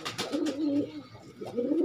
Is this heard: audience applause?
no